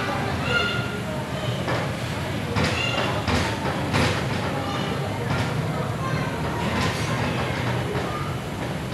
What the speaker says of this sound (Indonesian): Kereta api Rapidoho dengan nomor KA 405 baru saja meninggalkan stasiun Tulungagung.